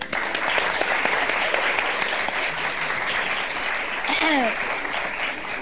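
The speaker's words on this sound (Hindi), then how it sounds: "तो ये हमारे प्यारे प्यारे व्यूअर्स के लिए तालियां सबसे पहले तो" Studio audience on a talk show applauding, a continuous even roar of clapping that stays loud from start to finish, with a brief voice or whistle-like sound rising near the end.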